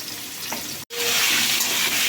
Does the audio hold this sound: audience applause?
no